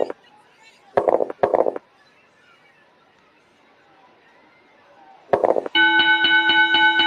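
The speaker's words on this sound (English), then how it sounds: "The bell is sounding." Ring bell in the Superstar Pro Wrestling video game clangs in a sustained, loud run of rapid metallic strikes near the end, following a few short bursts of commentator speech over quiet crowd murmur.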